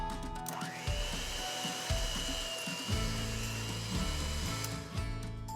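An electric mixer whirs steadily as it blends softened unsalted butter with cream cheese for frosting, running close and loud throughout with periodic rhythmic thumps from the bowl.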